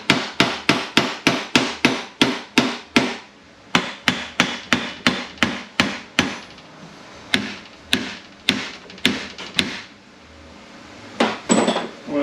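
Hammer striking a metal transmission part during disassembly, around two dozen sharp, ringing blows, first in a rapid steady rhythm, then slower and more spaced, close and loud.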